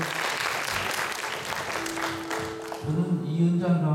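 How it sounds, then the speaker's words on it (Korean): A church gathering claps for a newly introduced teacher, several seconds of close, lively applause that gives way to a voice starting to speak. "박수"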